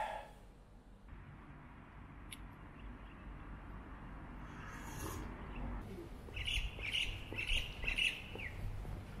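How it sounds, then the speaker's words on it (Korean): Birds chirp and twitter in bright bursts over a steady outdoor background hum in Tashkent, Uzbekistan, growing busier toward the end. "새소리 들리시죠?"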